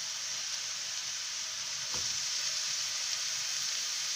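Kefta meat frying with onions in a pan makes a steady, even sizzle close by, with one brief clack of stirring partway through.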